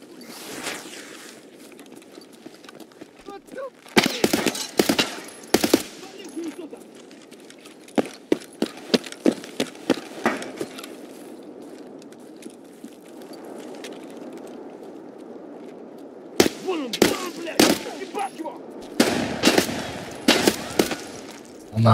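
Bursts of rapid gunfire and single shots crack out in clusters in the game Escape from Tarkov, with quieter stretches between and voices talking in the background.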